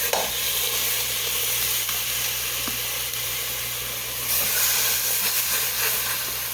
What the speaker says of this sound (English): I'm going to brown these kind of like what would happen in the broiler.